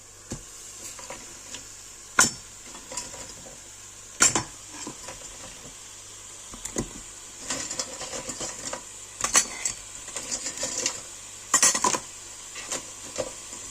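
Raw cleaned crab pieces dropped one at a time into a pan on an induction hob, giving sharp, close clacks and knocks at irregular intervals, with soft sizzling and clatter between them.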